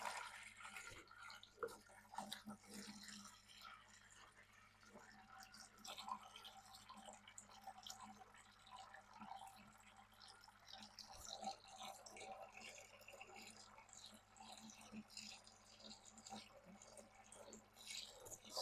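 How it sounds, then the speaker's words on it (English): Water drains out of a small 60p aquascape aquarium tank with fish, giving a faint, steady trickle and a few soft drips against a quiet background hiss. "I'll drain a bit of the water."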